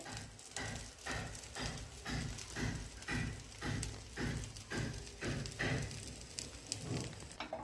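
Appe batter cooking in oil in an appe pan gives a soft bubbling sizzle that swells and fades in a loose, regular pulse, fairly quiet and close, with no speech over it.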